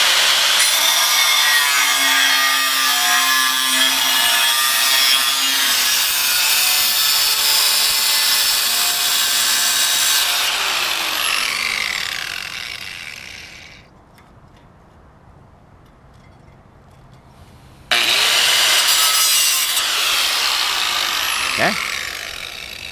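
An abrasive cutoff wheel slicing through metal during a rear brake job on a Volvo V60 Polestar: loud continuous high whine for about ten seconds, spinning down to quiet, then the cut resumes loudly near the end.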